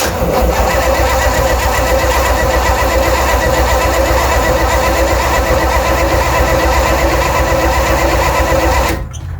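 Starter cranking the engine of a 1964 Chevrolet Chevelle Malibu Convertible being revived after sitting, a loud steady whirring churn that runs unbroken for about nine seconds before stopping.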